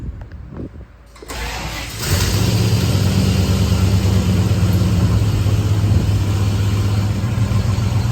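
A 1955 Studebaker Champion cranks briefly, then catches and settles into a loud, steady idle close by with an even, rumbling tone.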